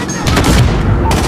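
Dense, loud gunfire in Call of Duty: Modern Warfare (2019) on the Highway of Death, a rapid burst of close shots with heavy low rumble.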